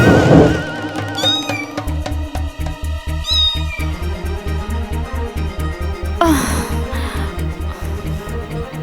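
A cat meows several times in a Hindi TV serial scene, with rising and falling cries standing out over loud, steady, rhythmic background music.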